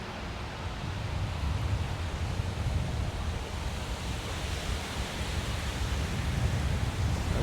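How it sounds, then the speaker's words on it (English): Wind rushes through the trees of a park as autumn approaches, a steady broad whooshing hiss with slight swells, fairly loud and continuous without any voices. "the sound of the wind through trees, especially that we're approaching autumn, is one of my favorite sounds"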